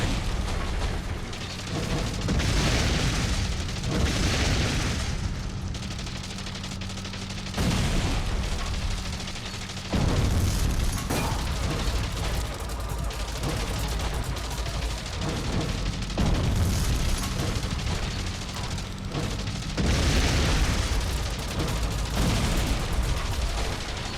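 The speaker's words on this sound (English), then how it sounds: "I'm seeing a lot of artillery." Artillery fire booms in the video game Wings: Remastered, arriving as heavy, rumbling blasts in several long waves with short lulls between them, loud and close, with no voices.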